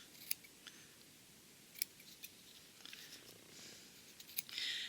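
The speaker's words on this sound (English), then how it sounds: "then we're going to trim the excess fabric" Scissors snip through excess fabric while trimming a yo-yo circle, a few sharp, quiet cuts spaced irregularly over a soft room background, with a brief rustle of cloth near the end.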